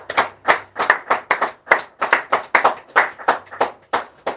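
A church congregation claps in quick, steady rhythm to acclaim, many hands striking together in a lively unbroken run of sharp beats with no voices on top.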